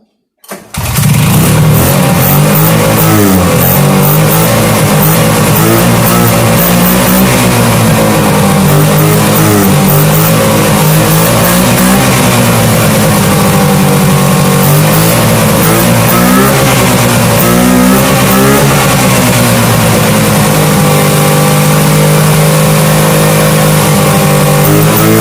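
An old Rupp 440cc Sprint snowmobile engine catches and runs loud and close, with a rough two-stroke buzz that rises and falls through repeated revs for the whole stretch.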